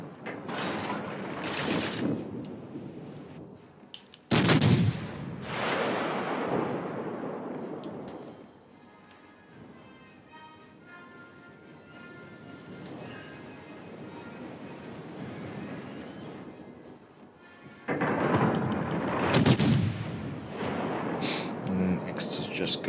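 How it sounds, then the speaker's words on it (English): Naval guns fire in a warship battle video game, heavy booming blasts at the start, near five seconds and again near eighteen seconds, each trailing into a long rumbling decay under steady game noise and occasional talk. "Concentrate fire on that enemy warship."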